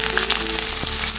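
Curry leaves, green chilies and chopped onions fry in hot oil, giving a loud, dense, continuous sizzle with a faint crackle, close up and without voices.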